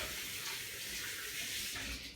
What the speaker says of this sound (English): I'm going to go quickly rinse my hands.